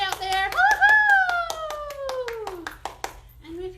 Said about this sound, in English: And clap because it's a great day out there.